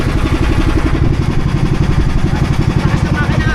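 A loud, newly bought boat engine idles and rumbles steadily up close, a continuous throbbing drone with a slight rhythmic pulse.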